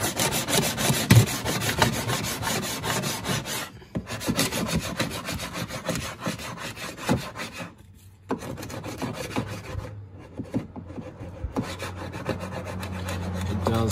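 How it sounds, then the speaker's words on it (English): A trim removal tool scrapes dried paint off a plastic under guard on a Mazda CX-3, making continuous rough rubbing and scraping strokes with a few brief pauses, close up and alone. "That may actually just pop all the bits of paint off the plastic easily enough"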